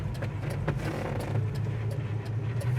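A 1972 Oldsmobile Cutlass S engine hums steadily while driving and shifting through the gears, with a low, even drone and a few faint ticks above it, heard from inside the car.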